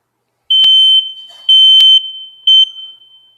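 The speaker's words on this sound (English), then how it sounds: "All smoke detectors have a test feature that are right on the front of the smoke detector." A household smoke detector sounds its test alarm after its front button is pressed, giving three loud, piercing electronic beeps, two long and one shorter, with brief gaps between.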